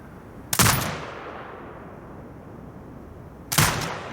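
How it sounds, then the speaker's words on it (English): Automated turret in the video game Sniper Ghost Warrior Contracts 2 firing two loud, sharp shots about three seconds apart, each trailing off in a long echoing decay, with no voices. "Exit binocular mode and command the turret to fire."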